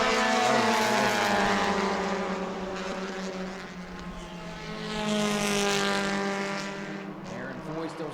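Bomber A class race cars run at New Smyrna Speedway, their engines droning in a loud, sustained roar that swells and fades as cars pass, with a commentator's voice audible in places.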